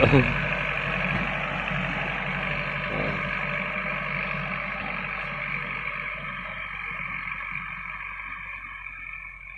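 A tractor engine drones steadily nearby in a sugarcane field being planted, a low, continuous rumble that slowly fades a little over time.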